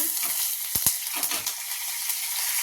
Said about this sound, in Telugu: నూనె ఉంది కదా, అందులో ఒక స్పూను ఆవాలు జీలకర్ర వేసుకుందాం. అలాగే ఒక ఎండుమిరపకాయ, కొంచెం కరివేపాకు.